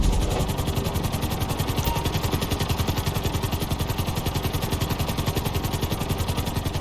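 A helicopter flies over a city in GTA V, its rotor throbbing in a fast, regular chop over a steady engine hum, close and continuous with no talk.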